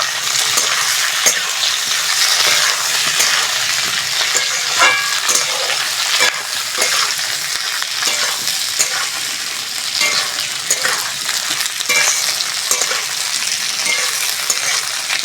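Onion stalks fry loudly in hot oil while being stirred, a dense close sizzle with repeated scraping strokes of the spatula across the pan, continuous with no talking.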